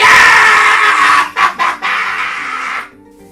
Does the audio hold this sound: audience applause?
no